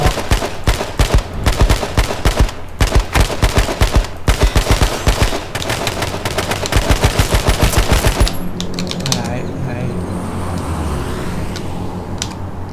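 Automatic gunfire rattles in rapid, loud bursts in the H1Z1 video game as a player shoots at an animal, then gives way to quieter in-game ambience and a few scattered clicks.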